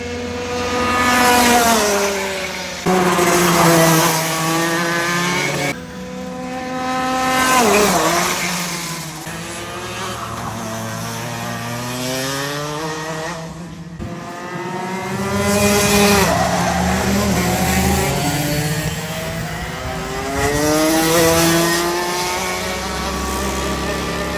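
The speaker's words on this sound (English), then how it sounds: "take a listen to the engine. It sounds absolutely beautiful from the outside." A go-kart engine heard from trackside buzzes loud and high-pitched, rising and falling in pitch as the kart accelerates, brakes and passes repeatedly over about twenty-four seconds.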